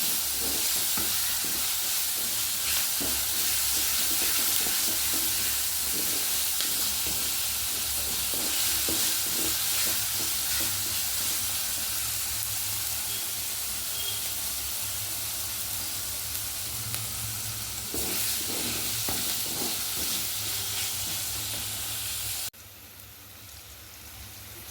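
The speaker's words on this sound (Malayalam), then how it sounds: "സവാള നന്നായിട്ട് മുരിഞ്ഞിട്ടുണ്ട്." Onions sautéing and being stirred in a clay pot during preparation of a bitter gourd curry in roasted coconut gravy, a steady close sizzle with scraping stirs throughout, dropping quieter near the end.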